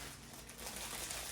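Packages being unwrapped before holiday decorating, with steady crinkling and rustling of wrapping material close by and fairly quiet throughout, no talking.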